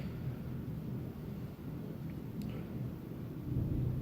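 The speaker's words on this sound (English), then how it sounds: "You can probably hear the thunder in the background now." Low, steady thunder rumbling from a storm outside, a muffled continuous roar heard indoors at a distance, fairly faint, swelling slightly toward the end, no voices.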